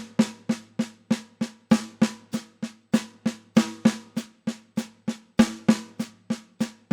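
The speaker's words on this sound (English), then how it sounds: "the Paradiddle-Diddle is a type of paradiddle" Drum strokes played in a steady repeating six-note paradiddle-diddle sticking, evenly spaced sharp hits with accented groupings, clear and close with no talking.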